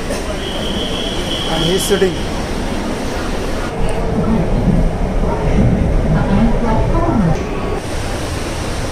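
A new metro train runs from Gondavali station toward the National Park with a steady, loud rumble and hiss of the moving carriage throughout, a high whine early on and a voice speaking briefly over it.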